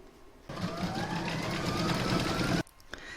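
A home sewing machine stitches a quilted jar cover in one continuous whirring run of about two seconds, close and steady, stopping abruptly with a couple of small clicks after.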